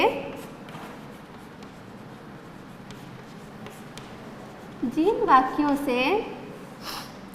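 A teacher writing on the board in a Hindi class, with faint scratching strokes under a low room hum, then a voice speaking briefly near the end.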